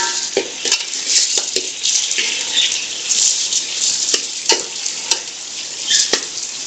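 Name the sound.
garlic and ginger frying with meat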